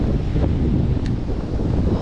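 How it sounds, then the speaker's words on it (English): Strong wind buffets the microphone during a perch fishing trip, a loud continuous low roar and rumble filling the whole clip with no letup. "This wind is absolutely disgustingly high."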